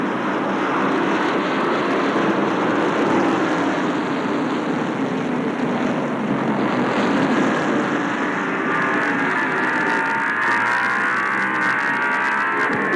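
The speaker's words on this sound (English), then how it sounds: "You can hear where the drivers let off on the accelerator about midway down the front stretch and the back stretch." Stock cars race at Martinsville Speedway in 1989, a dense roaring drone of many engines that shifts in pitch as drivers lift off the accelerator partway down the straights, loud and continuous throughout.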